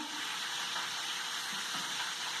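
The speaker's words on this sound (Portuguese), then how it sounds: "E agora eu vou misturar a linguiça, colocar o ovo com a cebola" Sausage with egg and onion sizzles steadily in a pan while being stirred, with a continuous close frying hiss and soft scraping strokes.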